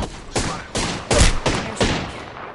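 Rapid bursts of automatic gunfire from the video game Apex Legends ring out loud and close, about five sharp volleys in quick succession, with no talking over them.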